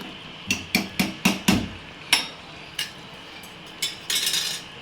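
Masala being stirred in a metal cooking pan with a spoon: a quick series of sharp metallic taps and scrapes, several in a row, then a few scattered clinks, close and fairly clear with no talk.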